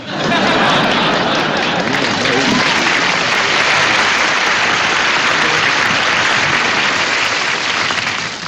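Sustained, loud applause from a telethon studio audience, continuous dense clapping with faint crowd murmur and a chuckle mixed in.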